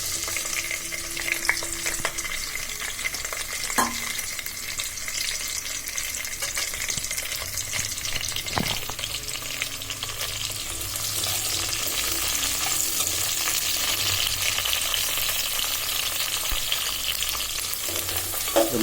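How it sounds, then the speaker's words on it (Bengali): Chopped onion, garlic and green chili frying in oil in a pot for bitter greens, a continuous sizzle with occasional utensil clinks and stirring scrapes, growing slightly fuller toward the end, no speech. "এবার কেটে রাখা পেঁয়াজ, রসুন, কাঁচামরিচ দিয়ে দিচ্ছি।"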